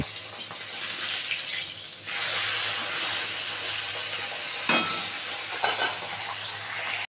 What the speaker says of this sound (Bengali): ঠিক এরকম করে করে সব কটা মাছ ভেজে নেব